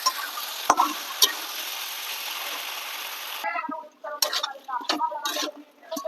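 Large chicken pieces stir-frying in a pan: a dense sizzle with sharp spoon clicks for a few seconds, then it drops away into scattered stirring taps and scrapes, close and moderately loud.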